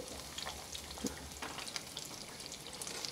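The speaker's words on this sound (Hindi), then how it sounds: "अब मैं इसे उलट पलट कर फ्राई करूँगी" Crispy pizza rolls coated in a cornflour batter fry in hot oil while being turned over, giving a faint, steady bubbling sizzle with small crackles and pops close by, no talk.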